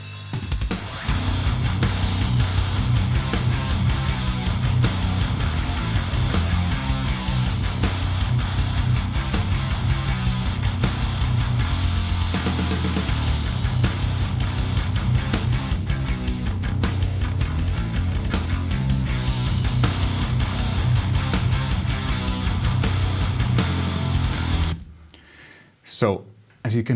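Early-1990s Swedish death metal guitars, one rig a Peavey amp with an HM2 pedal and another a Marshall with a DS1, play a dense, loud, continuous distorted riff with driving rhythm for about 25 seconds before stopping abruptly.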